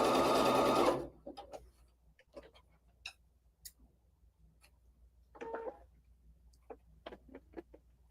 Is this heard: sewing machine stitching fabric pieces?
yes